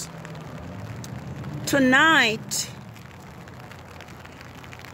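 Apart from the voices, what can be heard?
rain falling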